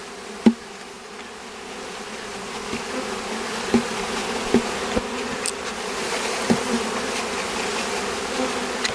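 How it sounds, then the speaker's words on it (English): A dense, steady hum of many honeybees buzzing as a package of bees is knocked and poured into a hive, with occasional soft knocks and taps scattered through the swarm. "So we give them a good hit, and we'll pour the bees."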